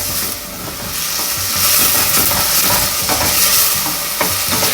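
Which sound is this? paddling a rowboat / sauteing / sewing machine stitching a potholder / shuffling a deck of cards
sauteing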